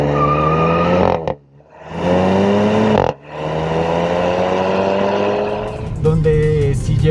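Loud Volkswagen Jetta GLI exhaust roaring through rising revs, dropping off briefly twice between gear changes, then a sharper burst as the engine climbs again.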